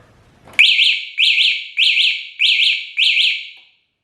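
E-vader motorcycle alarm giving its warning when the bike is moved: five loud, shrill electronic double-chirp bursts in an even rhythm, up close in a quiet setting.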